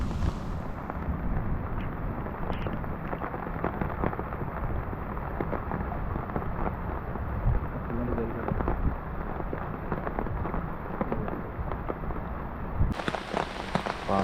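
Steady rain on a boat travelling slowly along the shore of a lake at Munroe Island, with a broad hiss of drops throughout; no distinct thunder clap stands out, and faint voices may sit beneath.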